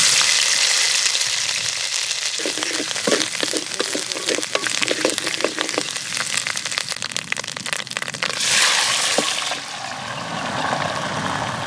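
Garlic, ginger, onion and radhuni paste fry in hot mustard oil with broken dried red chillies and nigella seeds, giving a steady close sizzle with crackling spatters and a louder hissing burst near the end.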